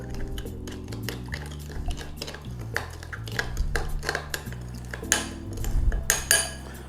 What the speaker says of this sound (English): Give it all a mix up.